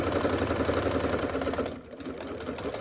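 Sewing machine running steadily while chain piecing quilt blocks for a scrappy heart block, a loud continuous mechanical hum that dips briefly near the end before resuming.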